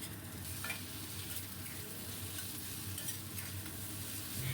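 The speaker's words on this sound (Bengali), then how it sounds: "গ্যাসের ফ্লেমটা আমি হাইতে রেখেই ভাজবো" Onions and potatoes fry in a pan over a high gas flame for a fish chorchori, giving a steady, close sizzle with occasional stirring scrapes and no talk.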